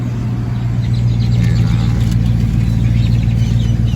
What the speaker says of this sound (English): Got another classic truck coming up here.